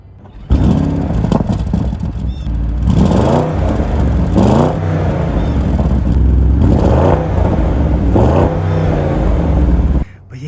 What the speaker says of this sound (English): here is what the exhaust sounds like right here